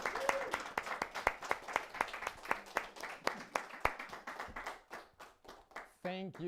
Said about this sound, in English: which is going to be clapping for Sylvain.